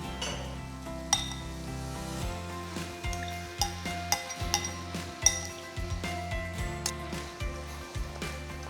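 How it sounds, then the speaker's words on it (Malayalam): Ground Thalappakatti masala and marinated chicken go into a hot pan for biryani, giving a steady sizzle with stirring and repeated metallic clinks of a spoon against the pan, over a background of tonal sound. "ഇനിയും നമുക്കിതിനകത്തേക്ക് പൊടിച്ചു വെച്ചേക്കുന്ന തലപ്പാക്കട്ടി മസാല ചേർക്കാം. ഒപ്പം തന്നെ മാറിനേറ്റ് ചെയ്ത് വെച്ചേക്കുന്ന ചിക്കനും."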